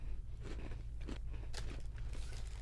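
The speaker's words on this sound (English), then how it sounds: "Oh, this one's like extra crunchy." Someone bites into an extra-crunchy ginger vanilla cookie, close-up crisp crunching and chewing with repeated brittle snaps over a steady low background hum.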